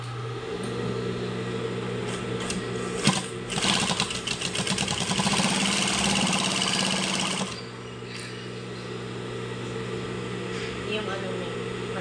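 A converted high-speed industrial sewing machine stitches rags in a steady, fast mechanical whir for about four seconds, then stops, with a motor hum and room noise before and after.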